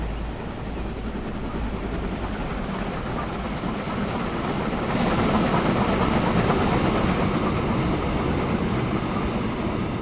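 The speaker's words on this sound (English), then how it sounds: "we're waiting for this train to exit the station" A train pulls out of a station in the video game Transport Fever 2, a steady rumbling roll with rhythmic clicking that grows louder midway and holds on, with no talking.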